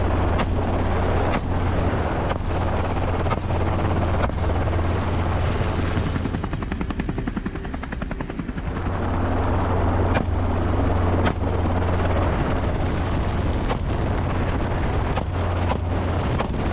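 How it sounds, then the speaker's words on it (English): A helicopter flies steadily nearby, its rotor thumping in a rapid regular beat with a loud engine drone that dips briefly midway. "The helicopter made another sweep to search for stragglers."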